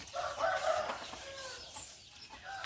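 Free-ranging farm chickens cluck while foraging under longan trees. A few close, short clucks and calls fall in a quick burst, then fade to quiet rustling in under three seconds, with no talk.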